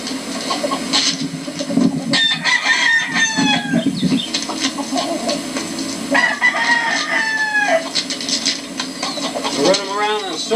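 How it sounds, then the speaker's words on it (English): Stag rooster crowing in long drawn calls between bursts of clucking, loud and close, while someone talks over the bird throughout. "This is basically a stag bird here."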